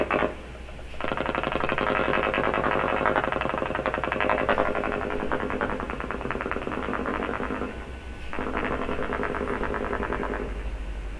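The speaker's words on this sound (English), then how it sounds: "it sounds to start like a really big echo now" Two overlaid copies of a gunfire recording, switched on and off against each other, produce a dense, smeared barrage of rapid pops with a cavernous echoing tail, with a brief break near the start and another near the end.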